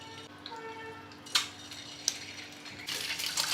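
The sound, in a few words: scored boiled eggs frying in hot oil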